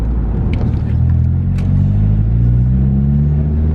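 A Mitsubishi Lancer CE with an upgraded Walbro fuel pump pulls hard in second gear after the clutch is dropped, its engine droning loud and close as the rising rumble climbs steadily.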